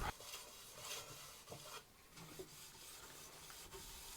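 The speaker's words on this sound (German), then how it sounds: "Deswegen behandle ich ihn mit einem sehr feinen Schleiffries," Fine sanding fleece rubbed over thick shellac on wood from a worn 1970s sewing trolley, giving a soft, steady scratchy rasp with a few faint bumps and knocks, close and quiet.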